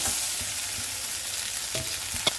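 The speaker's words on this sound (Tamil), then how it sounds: "இதில் இப்போ வடித்த சாதத்தை, தட் இஸ் குக்டு ரைஸ், அதை போட்டு நம்ம கலக்கணும்." Cooked rice being stirred into a sautéed tempering in a pan for a South Indian mixed rice dish, with steady sizzling and frying hiss, soft scraping stirs and a light clink near the end.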